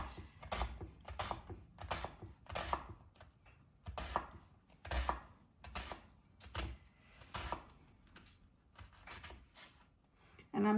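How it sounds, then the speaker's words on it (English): A knife finely chops raw red onion on a cutting board, firing quick bursts of sharp, close taps separated by brief pauses, with no talking over it. "And I'm chopping it pretty fine"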